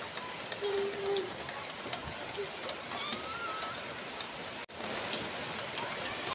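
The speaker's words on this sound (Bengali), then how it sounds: "বৃষ্টির পানি পড়তেছে।" Steady rain falls on a stormy day, a dense even patter around the listener that continues without letup, with a brief dropout near the end.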